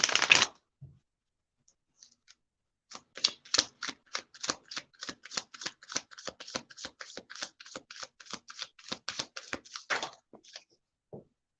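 Triple Goddess Tarot cards are shuffled close up, giving a quick run of dry riffling clicks lasting several seconds after a few scattered taps, then stopping with one last soft knock.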